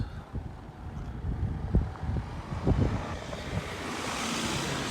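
Gusty wind buffeting the microphone outdoors in Glen Coe and Glen Etive, Scotland, rumbling and uneven, with a softer rushing wash like distant surf beneath.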